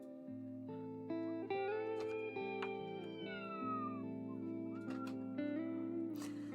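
Two unneutered male cats scream and yowl at each other before a fight, with long, wavering, drawn-out cries that overlap steadily throughout.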